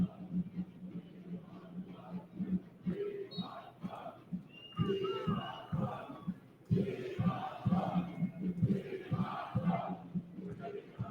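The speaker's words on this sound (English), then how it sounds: "We want more, is the cry out from the crowd." Football crowd in a stadium chanting "We want more" in loose rhythmic waves, heard at a distance beneath a commentator's voice.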